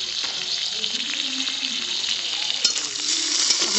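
Cauliflower and tomatoes fry in a pan for upma, giving a close, loud, steady sizzle with a dense hiss and a few brief clinks of stirring.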